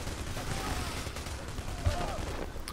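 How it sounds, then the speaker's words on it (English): Gunfire during a bank heist shootout in the PayDay video game, quiet scattered shots with one sharper thump, blended into a busy background under faint voices. "there's a lot of people shooting at me"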